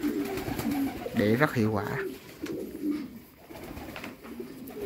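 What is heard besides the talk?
pigeons cooing on a giant runt pigeon farm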